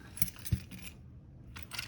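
Keys on a keyring jangle in a few faint, brief metallic clinks, close by in a quiet room.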